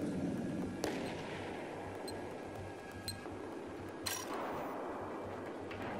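Scattered rifle shots in a Battlefield 4 match, a few sharp cracks spaced a second or two apart over a steady low rumble of battle ambience, fairly faint and without voices.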